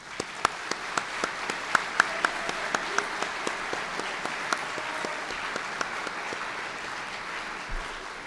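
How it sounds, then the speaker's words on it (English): An audience at a junior college commencement applauds in a steady, dense wash of clapping from a large crowd, with scattered sharp individual claps standing out, sustained for several seconds and slightly distant. "Let's give them a round of applause."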